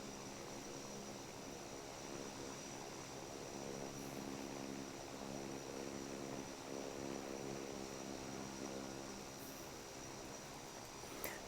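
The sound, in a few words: airliner taking off in Infinite Flight video game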